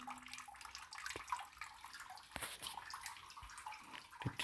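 A small trickle of water flows on the Brahmagiri hills near Nashik, a faint, close, uneven babbling with scattered drips and light knocks, no one talking.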